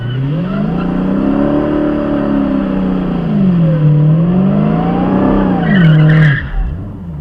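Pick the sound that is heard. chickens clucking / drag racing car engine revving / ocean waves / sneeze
drag racing car engine revving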